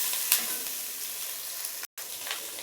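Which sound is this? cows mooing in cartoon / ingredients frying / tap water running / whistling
ingredients frying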